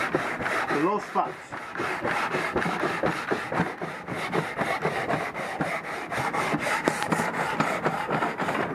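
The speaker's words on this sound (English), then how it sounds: "So we need to sand this down until we get all these low spots out of there." Coarse 80-grit sandpaper rubbed back and forth across a warped cylinder head, making a steady rhythmic rasping scrape close by, with someone talking over it briefly.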